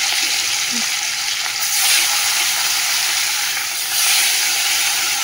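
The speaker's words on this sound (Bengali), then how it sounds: "গরম হয়ে গেছে তেল, এবার মাছগুলো ভেজে নেবো" Fish frying in hot oil in a wok makes a loud, continuous close-up sizzle and hiss with slight swells in intensity throughout, no voices over it.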